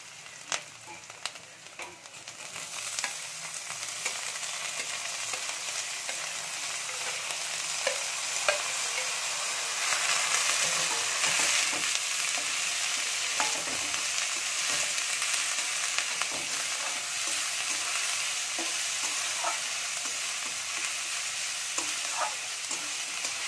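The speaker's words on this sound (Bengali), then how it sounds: "এবার দিয়ে দেব কুচিয়ে রাখা পেঁয়াজগুলো।" Chopped onions fry in a pan for an egg tadka, giving a steady, fairly loud sizzle with occasional spoon-stirring scrapes throughout and no talking.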